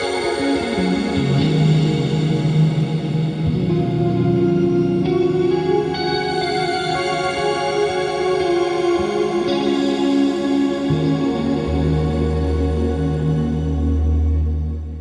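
A guitar runs through the PolyChrome DSP Lumos shimmer reverb, sustained chords blooming into bright, layered octave shimmer tails that swell and wash together, shifting in distinct sections and trailing off at the end.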